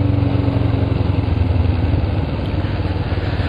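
Motorcycle fitted with new aluminium brake and clutch levers, its engine running loud and close during a test ride, a steady throbbing drone with no talking.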